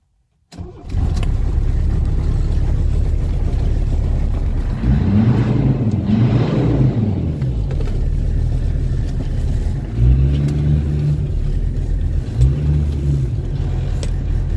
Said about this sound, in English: I'm going to drive off in this thing and show you guys how it rolls coal